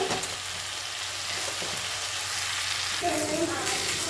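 Boiled cabbage with fish head and a little sugar being sautéed in a pan, a dense, steady sizzle with a brief scrape near the end, close and fairly loud.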